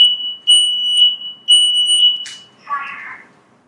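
A smoke alarm shrieks in repeated piercing beeps, three loud pulses close by, before a brief scuffle of handling noise as it stops.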